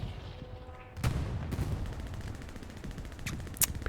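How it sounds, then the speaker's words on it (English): A Panzer IV tank firing in the Hell Let Loose video game, sharp cannon blasts and gunfire bursts amid ongoing battle noise, loud and close, with faint voices in the background. "Panzer IV takes a shot."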